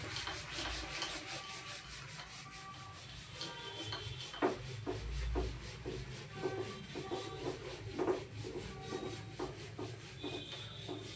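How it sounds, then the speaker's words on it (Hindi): Eraser or cloth rubbing across a classroom board during a trigonometry lesson, a steady dry scrubbing with short harder strokes, fairly quiet and close, no voice over it. "चलिए इसको रब कर देते हैं।"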